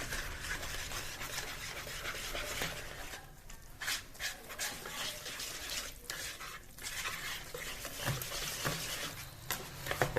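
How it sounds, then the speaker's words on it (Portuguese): Bread dough being stirred in a bowl as flour is gradually added, producing a continuous close, rasping, sticky mixing noise with uneven strokes and no talking. "Só vamos mexer um pouco e vamos acrescentar a farinha até o ponto da massa"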